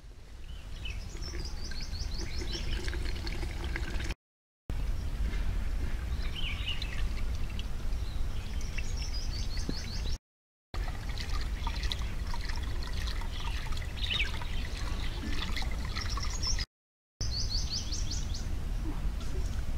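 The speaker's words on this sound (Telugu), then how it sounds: "ఈ బెల్లపు నీరు కోడిగుడ్డు ద్రావణాన్ని కలుపుకున్నాం కదా, దీన్ని మరలా ఒకసారి వడకట్టుకోవాలి." Jaggery water mixed with egg solution is strained, giving a continuous close trickle of liquid pouring through, with birds chirping in the background outdoors.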